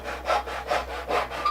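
A hand saw cuts through wood in four even back-and-forth strokes, close and fairly loud, each stroke a rasping whoosh with no voices.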